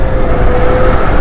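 A touring scooter, the Aveta Viper 180, running steadily under load on a test ride, with a continuous loud engine drone and road and wind noise throughout.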